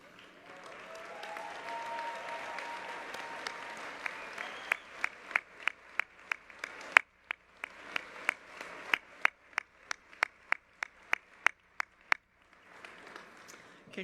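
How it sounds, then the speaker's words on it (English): An audience applauds degree earners standing at a University Day ceremony, a steady wash of many hands clapping with sharper individual claps cutting through near the end. "please stand so we can applaud you"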